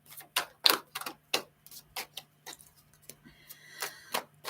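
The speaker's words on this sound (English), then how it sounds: "I'm shuffling forever." Tarot cards being shuffled, giving a series of sharp, irregular riffling snaps and taps, close and distinct over a quiet background hum.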